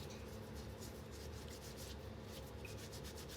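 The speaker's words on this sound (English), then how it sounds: "I'm just going to give them a little scrub." Jersey Royal potatoes are scrubbed with a fresh green scourer, producing a continuous close, soft, rapid rubbing scrape with no voices over it.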